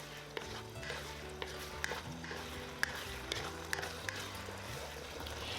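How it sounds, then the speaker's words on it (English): Thick sauce for gobi manchurian is stirred in a pan, with soft scraping strokes, gentle bubbling and occasional clinks of a spoon against metal, low and close, over faint background music. "Stir."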